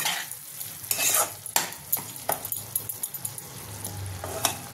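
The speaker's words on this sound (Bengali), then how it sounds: "আলুটা দিয়ে আমি একটু ভালো করে কষে নেব" Potatoes stir-fried in spice masala in a pan, with repeated scraping stirs and spatula knocks against the metal over a low sizzle, close and without talk.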